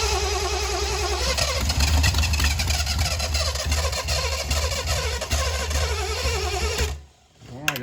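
A Triumph TR6 engine cranks over steadily with a rapid, rhythmic churning that runs loud and continuous for about seven seconds before cutting off abruptly.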